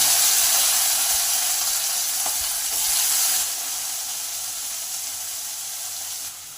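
Washed snake gourd hits hot oil with fried cumin, giving a loud, steady broadband sizzle that eases slightly over several seconds, with no voices.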